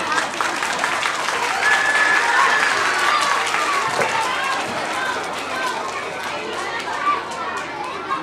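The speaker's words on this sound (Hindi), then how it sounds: "अगर आप अपनी माँ से प्यार करते हैं तो एक बार जोरदार तालियां हो जाएं" An audience at a Mother's Day celebration claps loudly and continuously, a dense wash of applause mixed with crowd chatter and children's voices throughout.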